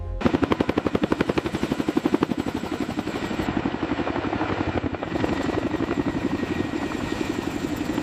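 A CH-53K King Stallion helicopter thumps with fast, rhythmic rotor beats over a heavy turbine roar, loud and close, the pulsing continuing steadily throughout.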